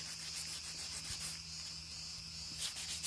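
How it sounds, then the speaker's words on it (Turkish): Quiet hand sanding on a Tofaş car headlight trim piece, a soft rhythmic scratchy rubbing repeated in strokes, close up with no talking. "Bir böyle düz zımpara yapın."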